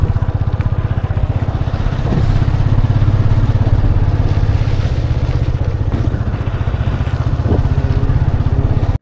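Motorcycle ridden on the road around Ajodhya Hilltop in Purulia, a close, steady mid-pitched engine drone with a pulsing exhaust beat and brief clatters, running alone without talk.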